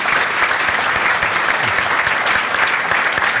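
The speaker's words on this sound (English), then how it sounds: "A round of applause, please." Loud, dense applause fills a summit hall after a fireside chat, a continuous wash of many hands clapping at close range throughout.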